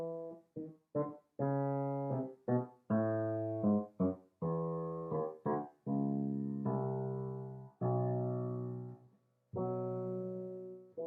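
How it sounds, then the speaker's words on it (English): Bassoons and cellos play a flowing counter melody of sustained, detached notes, mellow and clear with no voices, from the Introit and Kyrie of Verdi's Requiem. "There's a counter melody in the bassoons and in the cello"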